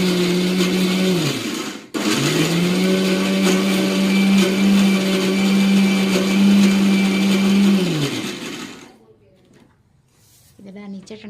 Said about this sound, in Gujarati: હવે ભાઈ મિક્સર હાલશે આગળ